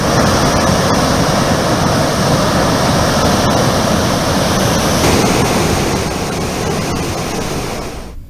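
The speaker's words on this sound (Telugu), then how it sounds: "పోలవరం ముంపు మండలాల్లోని అనేక ప్రాంతాల్లో వాగులు వంకలు పొంగి ప్రవహిస్తున్నాయి" Overflowing streams and floodwater after heavy rains in the Polavaram submergence area of Eluru district, a loud, continuous rushing roar that stays steady throughout and cuts off at the end.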